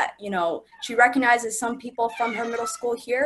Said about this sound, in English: Sorry, that's my cat meowing.